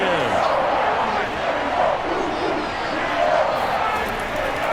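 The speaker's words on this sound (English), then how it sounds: "Crowd getting in it a bit already." A stadium crowd in an American football video game, Browns versus Colts, gives off a steady, loud roar of cheering and rumble that swells slightly and holds throughout.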